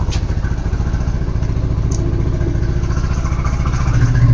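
A motorcycle engine runs in gear just after an oil change, with a steady, close, loud rhythmic throb and a light mechanical clatter throughout, and no voices.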